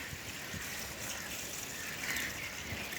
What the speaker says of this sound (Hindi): तारादा जो इसमें पानी ऐड कर रहे हैं